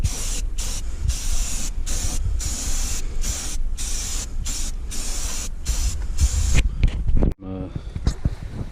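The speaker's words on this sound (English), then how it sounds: "This spray can is not doing very well." A spray paint can hisses in steady, loud bursts with short breaks, used to repaint RV bathroom trim and sputtering unevenly, then cuts off abruptly before quieter handling sounds.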